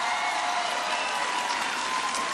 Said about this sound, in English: Can everybody please give Kelly a big round of applause for the great introduction?